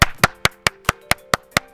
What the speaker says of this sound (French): Voilà, on applaudit.